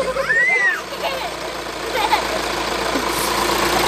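Volkswagen Transporter T6 2.0 TDI 140 PS diesel engine revving on the throttle, a steady loud drone with a brief dip and rise, while someone talks over it.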